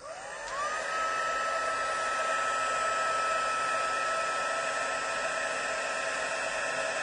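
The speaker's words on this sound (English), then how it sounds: "bring your heat tool in, and being careful not to blow it toward your powder" A craft heat tool blows hot air to melt embossing powder on gilded butterflies, a loud, steady, close whooshing whine running unbroken throughout.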